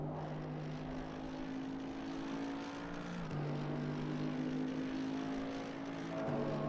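Steady engine drone of a GT3 race car exhaust in the racing game Assetto Corsa Competizione, sustained harmonic tones that dip in pitch around gear changes and hold at an even loudness throughout.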